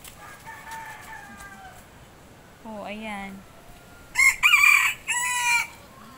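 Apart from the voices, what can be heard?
chicken (rooster) crowing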